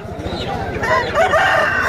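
A rooster crows loudly and close at a rooster market in Kunnathur, one rising call lasting under two seconds against background chatter and people talking.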